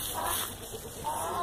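A hen clucks briefly and softly outdoors, a short burst of low clucking sounds.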